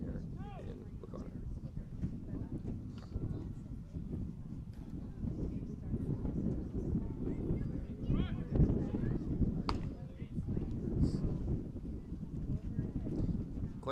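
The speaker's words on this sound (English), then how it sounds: "Quite windy out here in Lacona" Gusty wind buffets the microphone with a low, constant rumble at an outdoor boys' baseball game in Lacona, and a voice talks over it.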